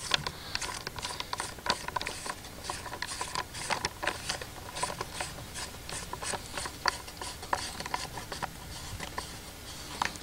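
A part being threaded onto a gun, metal parts scraping and ratcheting as the threads are lined up, with close, irregular clicks and rubbing in an otherwise quiet room.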